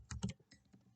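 Code is typed on a computer keyboard in a few quick, close key clicks, a short burst followed by lighter scattered taps.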